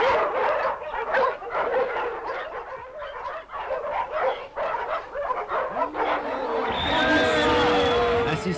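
Dogs bark, yip and whimper at a dog race in a 1970 animated short, a busy run of repeated yelps, then a sustained, wavering whine takes over near the end.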